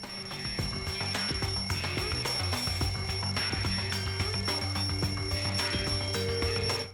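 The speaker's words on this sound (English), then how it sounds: "Yeah, there's an alarm on the clock." Alarm clock ringing in the video game Danganronpa 2: Goodbye Despair, a loud, continuous electronic bell-like trill that keeps going without pause, heard alone.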